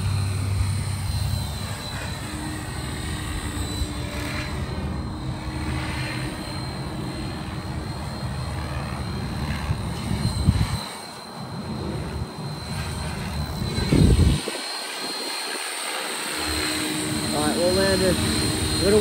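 A Blade Fusion 550 Stretch RC helicopter hovers in gusty wind, its rotor and motor whine droning steadily with brief dips and surges as it is blown about, while a person talks over it.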